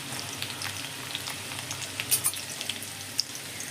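Sliced garlic, about ten cloves, fries in hot oil in a pan for a Bengali roasted pea and brinjal bharta, giving a steady close sizzle with a few brief crackles and pops.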